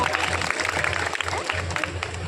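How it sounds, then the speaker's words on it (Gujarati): A crowd at a Ramdev Pir temple Rama Mandal folk performance claps steadily in a dense patter of applause, with a voice speaking over it. "એકવાર જોરદાર તાળીઓના ગડગડાટથી વધાવી લો"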